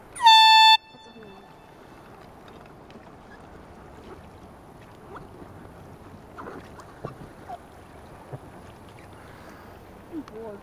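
A loud air horn blasts once on the Delaware River at the start, a strong, harmonic tone that cuts off within a second and leaves quiet water and faint paddling ambience.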